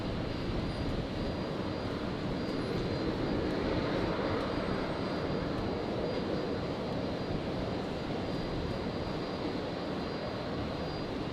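A QantasLink Embraer jet taxis out for departure at Brisbane Airport, its engines producing a steady, broad roar at moderate distance that holds evenly throughout with no talking.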